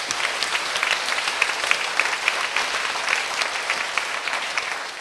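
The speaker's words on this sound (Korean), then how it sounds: "자, 박수로 주님께 영광 돌립니다." A church congregation applauds steadily for several seconds, a dense wash of many hands clapping together at an even level with no voices standing out.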